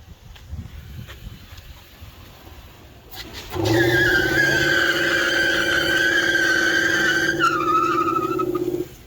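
A car's tires squeal and spin through a hard third-gear burnout, the engine roaring up and holding a loud, steady whine for several seconds after a quieter, rumbling start.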